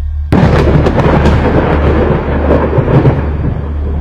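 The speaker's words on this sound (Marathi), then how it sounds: "मोठा गडगडण्याचा आवाज झाला" A loud clap of thunder bursts in suddenly and rolls on as a heavy, sustained rumble with crackling texture.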